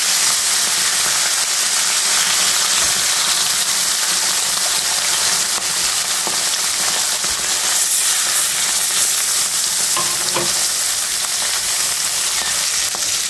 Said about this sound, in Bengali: এখন আমি মাছটা দিয়ে দেব। মাছগুলো সুন্দর করে ভেজে নেব।